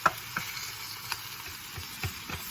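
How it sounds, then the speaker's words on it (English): Vegetables for a Thai chicken stir-fry sizzle steadily in a skillet, with occasional soft scraping knocks as they are stirred. "The other vegetables will continue to cook on the one side of the skillet"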